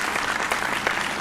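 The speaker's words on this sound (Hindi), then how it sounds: "मैं चाहूंगा इनके लिए एक बार जोरदार तालियां आप इनके लिए बजाइए।" A school audience claps loudly and steadily in a brief, dense burst of applause with no talking.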